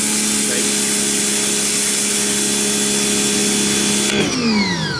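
MrLiance 1000 psi 3.1-gallon electric pressure washer spraying, a loud steady hissing rush with a motor drone beneath that cuts off abruptly near the end and winds down.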